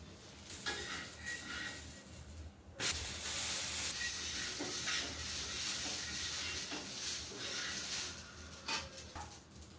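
Dosa batter poured onto a hot pan sizzles with a sudden loud hiss that then continues as a steady crackling sizzle, with a few soft knocks, and nobody speaking.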